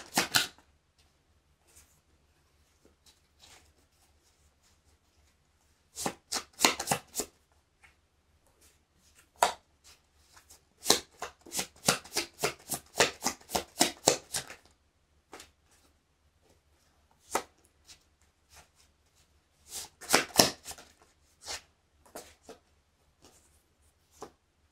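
Tarot cards shuffled by hand in a quiet room, bursts of crisp riffling and slapping card sounds separated by pauses, close and fairly faint with no talking.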